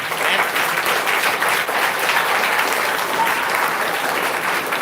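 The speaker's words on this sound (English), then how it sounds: "A huge round of applause." Loud, sustained applause from a large audience at a teachers training college event, steady clapping filling the whole stretch without pause.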